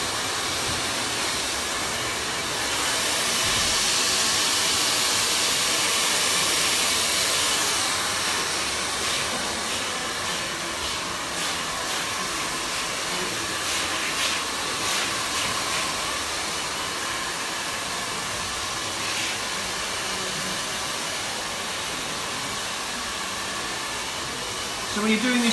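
A handheld hair dryer with a nozzle blows steadily while drying short freshly cut hair in a salon, a continuous loud airy whoosh that swells slightly as it moves closer, then holds an even roar.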